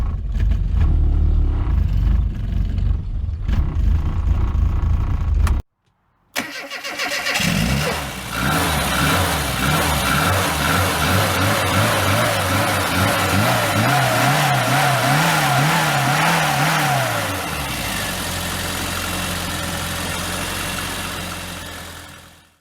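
A Classic Mini SPI engine with a running fault idles loudly and close, with brief throttle blips and revs that dip and settle back to a steady idle.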